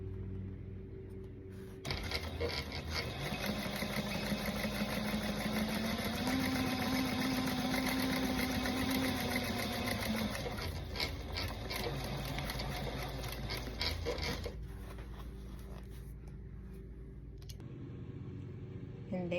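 Sewing machine topstitching the hem of a faux leather top, a close steady mechanical hum with rapid needle ticking for about twelve seconds, then a quieter idle with faint clicks near the end.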